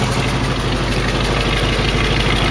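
A 1968 AMX V8 engine idles steadily after carburetor cleaner was poured down the carb, a continuous low rumble with a fine, even vibration throughout and no voices.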